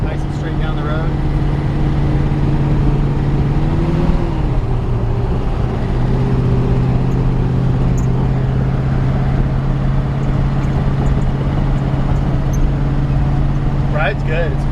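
A 1952 Ford F1 pickup truck driving down the road, heard from inside the cab as a steady low engine drone that shifts pitch partway through, with someone talking over it.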